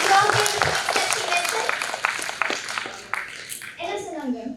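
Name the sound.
audience applause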